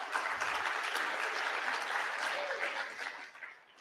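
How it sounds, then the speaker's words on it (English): Audience applause at a Bitcoin conference, a dense, moderately distant crowd clapping steadily before fading slightly at the end. "Thank you for the applause."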